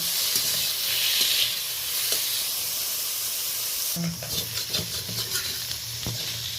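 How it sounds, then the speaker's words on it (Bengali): Steady frying sizzle with crackling oil as shrimp coated in salt and turmeric fry, joined midway by clinks and scraping of a utensil stirring in the pan. "চিংড়ি মাছটা আমার ভালোভাবে ফ্রাই হয়ে গেছে"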